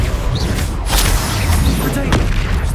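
A Confringo spell in the Hogwarts Legacy video game lands as a loud booming blast with sharp cracks, amid dense continuous game noise.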